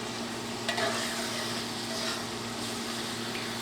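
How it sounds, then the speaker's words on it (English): Garlic sautés in a pan for pasta sauce, giving a steady soft sizzle with a faint stirring scrape, close and continuous with no talking. "So we're just going to saute this garlic a little bit."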